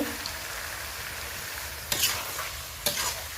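Cleaned, cut chicken pieces go into spices frying in a pan, a steady close sizzle broken by two sharp stirring scrapes, with no talking.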